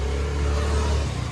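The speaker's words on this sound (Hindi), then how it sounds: "बैरिंग की भी आवाज़ आ रही है, बैरिंग की आवाज़ से आ रही है।" A Toyota car engine with a faulty bearing runs at a steady, close idle, a continuous low hum and whir with no talking.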